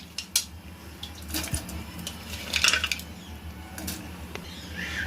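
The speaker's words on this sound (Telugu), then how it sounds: "ఈ కాకరకాయ ముక్కల్ని వేసేద్దాం" Salted, soaked and squeezed bitter gourd pieces dropped into a cooking pot, giving a few sharp clatters and a brief wet splashy rustle with faint metallic clinks, close by and moderately loud, no one speaking.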